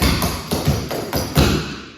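Tap dancer's slap back step, a series of sharp shoe taps and thumps on a hard floor in quick uneven rhythm, close and fairly loud with no talking.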